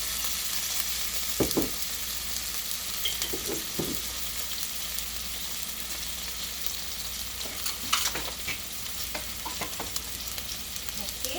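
Soy sauce spooned into a hot pot of Mongolian pot rice sizzles and fries steadily, with a constant hiss throughout and a few brief clinks and stirring knocks scattered over it; no one speaks.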